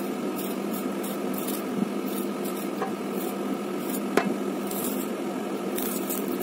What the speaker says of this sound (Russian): Картошку чистим.